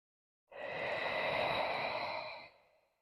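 A single long, breathy exhale during a shoulder mobility exercise, rising quickly, holding steady for about two seconds, then tapering off, close and clear with no talking.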